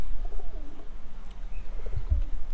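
Pigeons cooing near their bathing water, soft, low, repeated coos close by over a quiet background with some faint bird chirps.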